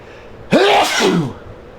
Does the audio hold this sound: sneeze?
yes